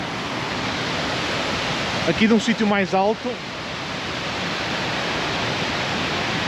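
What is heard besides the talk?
waterfall cascade seen up close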